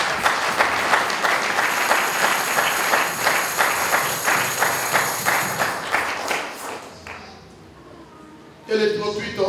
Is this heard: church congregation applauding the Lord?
yes